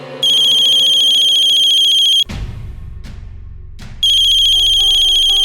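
A loud electronic phone ringtone plays a repeating melody, breaks off into a rustling clatter, then starts ringing again.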